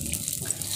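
A short, soft splash of water being poured into a heated wok, quiet and brief.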